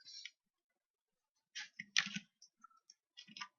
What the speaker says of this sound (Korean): 커버 레이어 선택하고 컨트롤 D키 눌러서 복제.